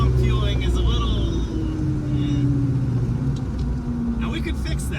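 A Hemi-swapped Dodge Challenger engine runs steadily with a deep, loud rumble and a slowly shifting tone, with someone talking over it throughout.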